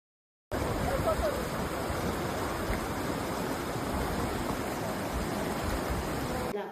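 The Martuni river flows with a steady, broadband rush of water, even and unbroken from start to finish, close by and fairly loud with no voices over it.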